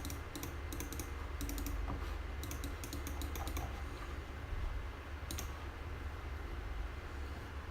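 Computer keyboard keystrokes in quick bursts of clicky taps, separated by pauses, with one last isolated cluster, close and fairly quiet over a low room hum.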